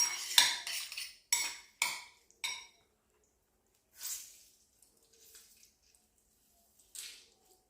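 Salmon being tossed with lemon juice in a bowl for an esqueixada salad, a few wet clinks and scrapes of utensils against the dish in short bursts, then sparse quiet stirring sounds with long silent gaps.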